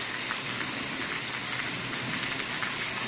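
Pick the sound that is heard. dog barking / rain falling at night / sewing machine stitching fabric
rain falling at night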